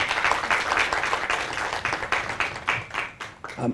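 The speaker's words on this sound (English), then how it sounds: "I'd like to a little round of applause for Marianne and her family" Sustained applause from an audience, steady and dense throughout, with a few louder claps standing out near the end.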